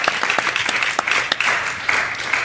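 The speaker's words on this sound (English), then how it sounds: "let's give everyone a round of applause." An audience at a podcast assessment panel applauds in a dense, lively burst of clapping that holds steady throughout, with no one speaking over it.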